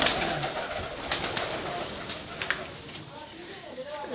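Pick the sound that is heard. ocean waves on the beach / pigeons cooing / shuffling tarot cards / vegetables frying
pigeons cooing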